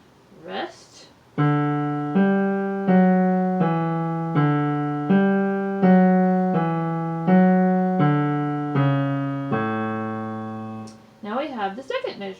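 A keyboard plays the opening line of Bach's Marche as a sequence of about eleven clear, evenly paced single notes, each decaying gently. Brief talk comes just before and after the notes.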